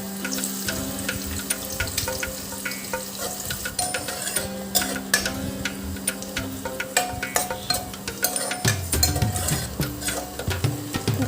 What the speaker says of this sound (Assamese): পাতলকৈ কাটি থোৱা পিঁয়াজখিনি প্ৰথমে মই ফ্ৰাই কৰি উলিয়াই ল'ম